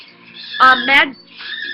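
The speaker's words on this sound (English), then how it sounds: "my birds are playing and my cat's provoking them" Pet birds squawk in two loud, harmonic bursts close by, stirred up by a cat, with faint chirps before and after.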